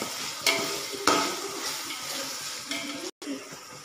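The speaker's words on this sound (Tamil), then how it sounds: "இஞ்சி பூண்டு பேஸ்டில் உள்ள பச்சை வாசனை போகிறது வரைக்கும் கிண்டிக்கிடலாம்" Onions with ginger garlic paste being stirred in a hot pan, a spoon scraping and tapping the pan over a steady light sizzle, close, with a couple of sharper knocks and a brief dropout near the end.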